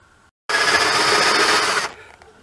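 A drill with a Forstner bit bores into wood in one short, loud whirring burst lasting about a second and a half, set against quiet room tone with no talking.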